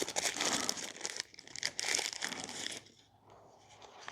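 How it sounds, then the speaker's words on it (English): Crinkling and tearing of packaging as a Viofo A229 Pro dash cam is pulled out of its box, a loud, busy rustle for about three seconds that then drops to quieter handling. "This is kind of hard to pull out, but because the packaging is so nice"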